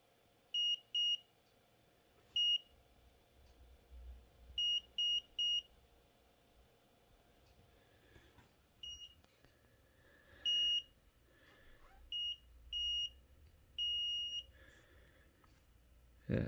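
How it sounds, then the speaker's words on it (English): An Arduino buzzer driven by an ultrasonic distance sensor gives thin, high electronic beeps, some single and some in quick pairs or triplets, at irregular intervals against a quiet, faintly humming room. "It's the buzzer."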